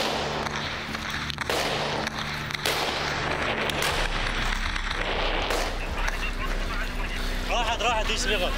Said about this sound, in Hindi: The soldiers try to shoot down the drone.